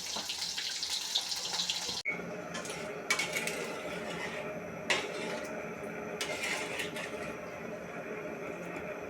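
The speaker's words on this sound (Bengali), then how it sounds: "ঝোল দিয়ে দিলাম" Broth poured into a pan of fried fish and raw papaya curry gives a steady liquid pour and splash, with a few clinks of pots and utensils in a kitchen. No one speaks.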